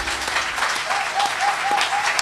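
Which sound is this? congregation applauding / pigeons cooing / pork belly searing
congregation applauding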